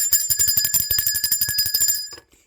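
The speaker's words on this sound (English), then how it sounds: "Let's ring the bell for that" A bright metallic bell rings in a rapid, even trill for about two seconds, loud and close, then stops and leaves a short ringing tail.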